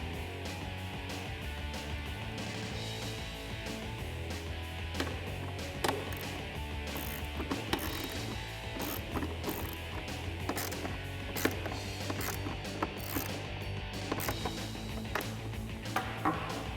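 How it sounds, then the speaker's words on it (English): A self-tapping screw is driven into a Roush cold air intake inlet on a Ford F-150, heard as faint, busy mechanical clicks and ratcheting ticks with a low steady hum beneath, close by. "Just install the self-tapping screw and it'll hold it in place"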